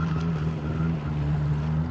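A jet ski on the water in Adana runs with a loud, steady engine drone close by, holding an even throttle without pause.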